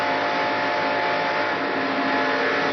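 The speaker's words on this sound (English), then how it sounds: "You can just hear him lifting a little bit" A NASCAR stock car at Daytona in the 1991 Gatorade Twin 125s drones loudly and steadily with a high engine whine, easing slightly as the driver lifts off the throttle.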